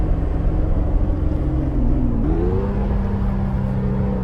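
A Mazda RX-8 engine hums steadily from inside the cabin in regular drive mode, with a low drone and a rising tonal whine as the vehicle gets moving.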